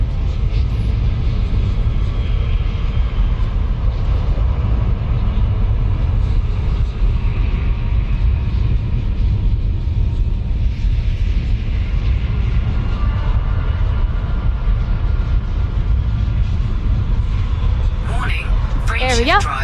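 A spaceship rattles and bounces while neutron boosting in the video game Elite Dangerous, giving a loud, steady, heavy engine rumble that runs throughout, with a few brief higher tones near the end.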